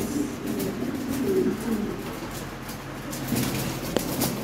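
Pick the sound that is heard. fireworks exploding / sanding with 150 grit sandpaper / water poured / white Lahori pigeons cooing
white Lahori pigeons cooing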